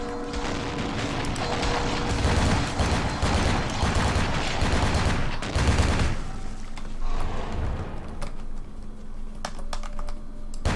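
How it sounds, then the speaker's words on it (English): Gunfire in the video game Vampire: The Masquerade – Bloodlines: dense, rapid volleys of shots crackle close and loud for several seconds, then thin out, mixed with the clatter of computer keyboard typing. "Oh, I thought where is that gunfire coming from?"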